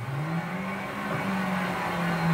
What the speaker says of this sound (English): So now I'll start the engine, just like that.